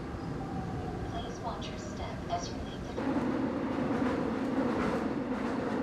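A subway train in motion gives a steady rumbling ride noise that grows louder about halfway through, with a voice talking over it.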